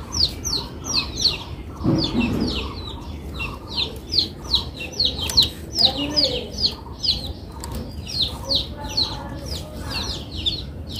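Many motherless baby chicks cheep loudly and continuously in a steady high-pitched chorus, with a brief low thump and some background noise in between.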